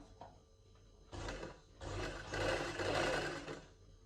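Sewing machine stitching a lined shirt, starting slowly with short bursts, then running in longer, louder continuous stretches of close mechanical whirring and clatter.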